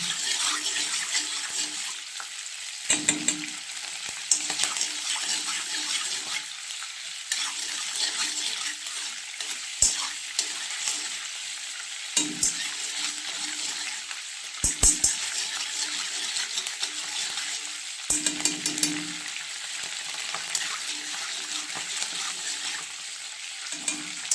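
Butter melts into ghee in a pan. Its moisture gives a steady close sizzle, broken by scattered small pops and spatters, with occasional stirring scrapes.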